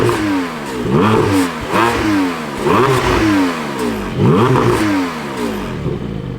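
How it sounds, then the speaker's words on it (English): A 2021 Porsche 718 Boxster GTS flat-six engine starts and revs, loud and close, climbing through several repeated throttle blips with rising and falling pitch before settling to idle. "let's fire up this Boxster GTS and hear what it sounds like"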